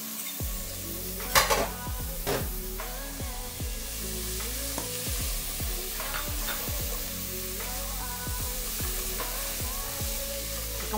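Onion and oil frying in a hot pan, a steady sizzle with repeated scraping and stirring clinks of a utensil against the pan throughout.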